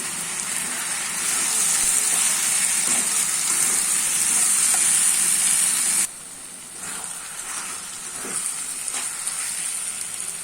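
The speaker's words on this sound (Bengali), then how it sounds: "আমি টমেটোগুলোও ভেজে দিব আলু পেঁয়াজের সাথে।" Chopped tomatoes, potatoes and onions fry in a pan with a continuous bright sizzling hiss, loud at first, then softer with occasional stirring scrapes and taps.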